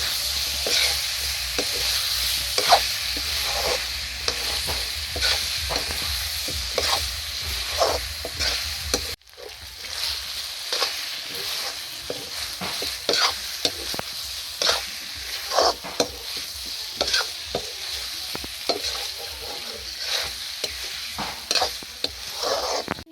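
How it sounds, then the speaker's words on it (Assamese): Continuous sizzling of kuchia fish and potatoes frying in a pan over low heat, broken by frequent scrapes and clacks of stirring, with a short pause before the sizzle resumes. "এতিয়া আলুখিনি দি দিলোঁ, একেলগে ভাজি থাকিম।"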